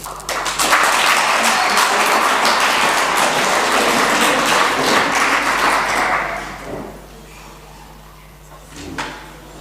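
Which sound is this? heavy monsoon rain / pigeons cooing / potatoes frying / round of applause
round of applause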